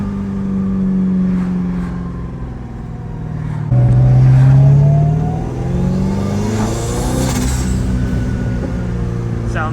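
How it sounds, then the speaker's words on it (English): A twin-turbo Corvette C5 Z06 accelerates hard from inside the cabin, its engine rising in pitch through the gears with a distinct turbo whistle over the exhaust, loud and continuous with a brief shift break. "the wastegate's open and all you hear are the turbos"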